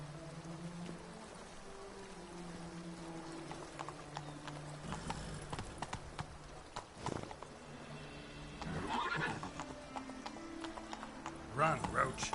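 Roach, the horse in The Witcher 3, clip-clops along with rhythmic hoofbeats at moderate distance while voices talk over the quiet scene.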